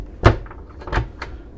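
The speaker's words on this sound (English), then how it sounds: "And then, so this door closes this one off." A cabin door on a 2015 Pearl 75 yacht swings shut with a close, solid thud, followed by a couple of softer latch clicks and knocks.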